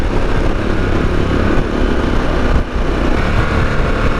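Harley-Davidson Pan America motorcycle engine running steadily during a ride, a loud continuous rumble mixed with rushing wind noise and a brief dip partway through.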